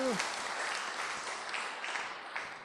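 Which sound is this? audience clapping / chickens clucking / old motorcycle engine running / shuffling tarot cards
audience clapping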